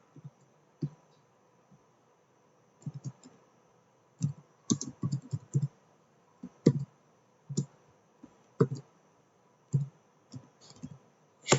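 Code typed on a computer keyboard during a C# programming session, with irregular clusters of crisp key clicks broken by short pauses, close and fairly loud against a quiet background with a faint steady hum.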